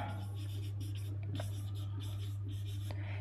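Chalk or marker scratching across a classroom board during a spoken English lesson, a steady run of short scraping strokes over a constant low electrical hum.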